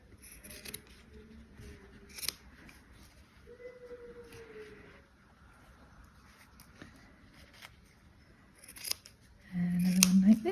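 Scissors cutting fabric backing for an embroidery hanging, a few quiet close snips spread through the clip, followed by a louder low hum at the end.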